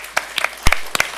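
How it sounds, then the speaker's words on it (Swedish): A small audience gives a brief round of applause for a speaker at a Swedish public seminar on farm sales. Scattered, sparse claps sound fairly close and end quickly, with no talk over them. "En applåd för Peter tycker jag."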